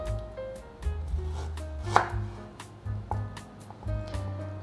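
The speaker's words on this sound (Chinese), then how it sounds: "来切点姜" Ginger being sliced with a knife on a cutting board, a series of irregular close knife taps and chops, with a low background hum.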